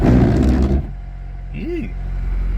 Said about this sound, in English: So I'll just leave her on a fast idle for now.